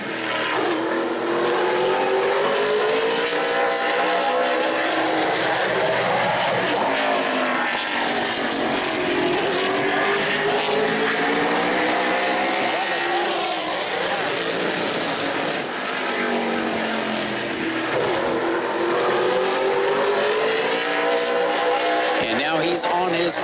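A super late model race car on a qualifying lap at New Smyrna Speedway, engine roaring loud and continuous with rising and falling pitch as it comes off turn four, an announcer talking over it.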